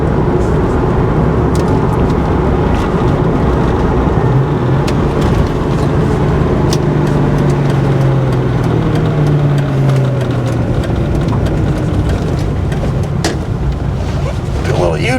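A 1997 Ford Mustang Cobra on a test drive, its engine a loud, steady in-cabin drone with shifting tones as it moves and turns on gravel, with speech heard over it.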